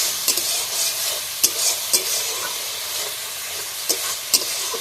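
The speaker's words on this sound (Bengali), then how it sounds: "একটু জল দিয়ে দিয়েছি, দিয়ে মশলাটা ভালোভাবে কষিয়ে নেবো।" Spice paste with a splash of water fries in a pan for a taro leaf and hilsa fish head recipe, a loud steady sizzle and hiss punctuated by a few sharp scrapes of stirring.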